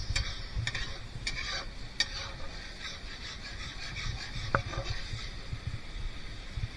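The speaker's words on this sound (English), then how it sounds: "Let the mustard just cook in a little bit." Mustard gravy for Bengali prawns cooks in a pan with a soft, low sizzle while a utensil stirs and scrapes, leaving several clear knocks against the pan's edge early on.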